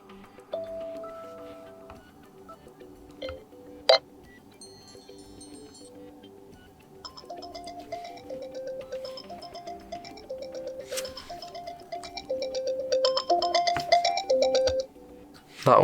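Alarm tones previewed one after another on an iPad Air clock app, short melodic chimes and ringtone patterns changing every few seconds, moderately loud and close, with light tapping between them and no talk.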